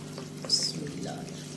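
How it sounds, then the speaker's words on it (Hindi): Rice pours into a pot of boiling water for sweet jaggery rice, a short splashing rush that sits over a low cooking hum. "पानी हमारा जो है वो उबल रहा है, तो अब मैंने इसमें चावल डाल देने हैं।"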